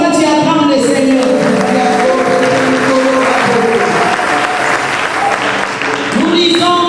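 A church congregation applauding during a service, loud sustained clapping close up and filling the space, with voices and shouts rising over it throughout.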